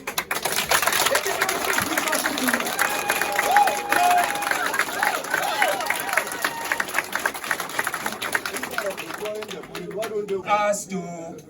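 Sustained applause from a crowd, dense clapping with some cheering and voices mixed in, fading into scattered claps near the end.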